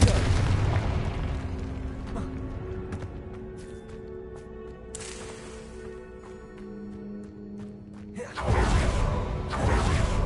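Confringo blasting spell in a Hogwarts wizarding video game, loud rumbling explosions with whooshing bursts, one at the start and another powerful blast near the end, separated by a quieter stretch of game ambience.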